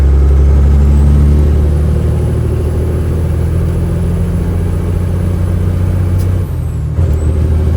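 A Peterbilt 389 truck engine, just repaired, runs with a loud, steady low rumble and smooth throttle, close by, with a brief dip and a hiss near the end; no one speaks.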